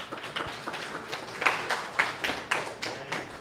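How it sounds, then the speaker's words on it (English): Hackathon audience applauding at final demos, a brief spell of scattered, uneven clapping at moderate loudness. "So another big round of applause, everyone."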